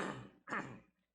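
A single quiet cough or throat-clearing, two short bursts close together, then silence.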